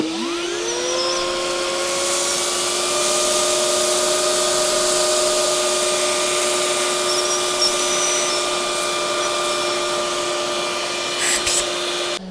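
A Makita 40V cordless vacuum sucks up a pile of fine sand. Its motor spins up quickly, then holds a loud, steady, high whine with a gritty hiss for about twelve seconds, with no talking.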